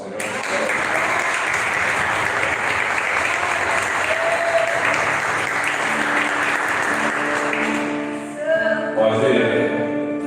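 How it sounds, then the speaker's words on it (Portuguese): Church congregation at a family worship service giving a long round of applause, dense sustained clapping for several seconds that fades as singing or talk rises at the end. "Vamos dar uma salva de palmas para o nosso Senhor."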